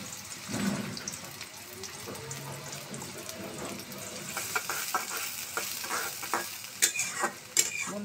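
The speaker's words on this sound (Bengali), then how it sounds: "এখন দিয়ে দেবো পেঁয়াজ কুচি।" Chopped onions dropped into hot oil in a wok sizzle and fry, with stirring and scraping clatter over a steady hiss, before cooking small river eel fish; faint talk in the background.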